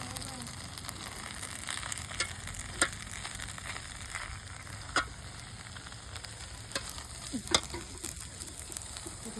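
Tempering for vaghareli khichdi in hot oil, a low steady sizzle and fry with scattered sharp crackles and pops, fairly quiet and close, with no talking.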